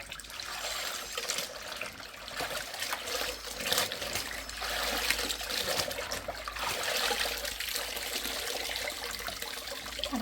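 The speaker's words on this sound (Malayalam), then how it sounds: "നന്നായിട്ടൊന്ന് വാഷ് ചെയ്തെടുക്കട്ടെ കേട്ടോ." Freshly dyed clothes washed by hand in water, a continuous splashing, trickling wash with sloshing swells, close and without talk.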